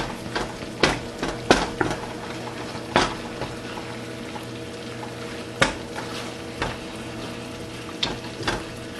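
Ground meat browning in a pan for Philly-style filling, a steady low sizzle under repeated sharp scrapes and knocks of a utensil smashing it apart, close and fairly loud with no talk.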